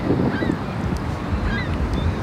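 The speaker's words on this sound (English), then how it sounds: "I'm not feeding the geese." Geese honking outdoors near water, several short nasal calls spread through a background of water and ambient noise, at moderate distance.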